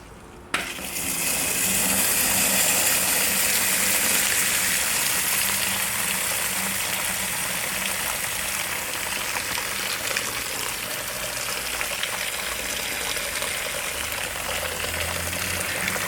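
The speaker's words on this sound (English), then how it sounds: "we can take our tap, connect it on, flip it upside down, and we just wash everything out" Tap water gushing through an upturned paint roller to wash out the paint, a continuous close hiss and splash that starts abruptly and runs steadily without pause.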